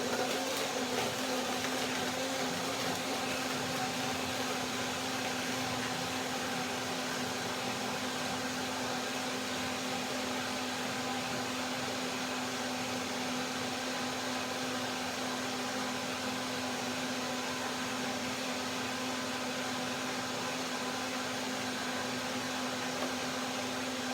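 A blender runs steadily through a lemon, persimmon, kale and orange smoothie, its motor whirring as one continuous, even drone with a strong steady hum that lasts the whole stretch, close and with no voices.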